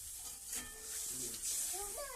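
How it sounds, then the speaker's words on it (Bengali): A Bengali curry simmers in a pot just after water is poured in, giving a faint, steady sizzling bubble with light stirring and a soft voice in the background. "তরকারিটা ফুটতে থাকুক।"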